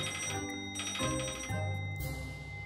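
A telephone rings in a horror video game, electronic ringtone tones repeating in short bursts, loud and close, with no talk over them.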